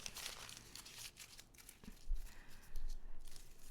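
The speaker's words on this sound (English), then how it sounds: "Okay, maybe let's try wrinkling it first, crumple it." Thick old paper music sheet being crumpled by hand, a burst of crackling and crinkling that goes on steadily, close and moderately loud, with no talking.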